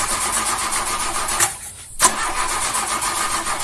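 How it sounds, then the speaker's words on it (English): Car engine cranking and catching, a steady loud mechanical roar cut by a brief drop-out before it surges back up and keeps running. "Start the engine, you piece of crap."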